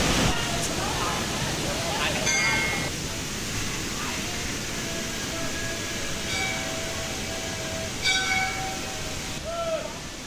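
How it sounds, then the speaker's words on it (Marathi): A broad rushing roar of the Somnath waterfall, a year-round fall in Mul taluka, fills the scene steadily, with faint tonal sounds and voices mixed in the background. "आमचा धबधबा नेहमी वाहत राहील"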